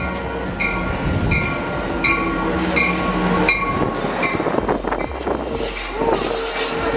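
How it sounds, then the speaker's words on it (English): A train pulls into a station platform bound for San Diego, with rumbling wheels, rhythmic rail clatter and a squealing whine, windy and close, with people talking faintly nearby. "So, konti na lang dadating na yung train."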